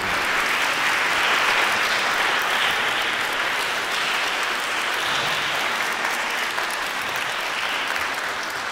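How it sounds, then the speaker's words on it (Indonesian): Wedding guests applaud the newlyweds in a steady, dense round of clapping that fills the room at an even level from start to finish, with no voices rising above it. "Mari kita tepuk tangan yang meriah untuk pasangan suami istri yang baru"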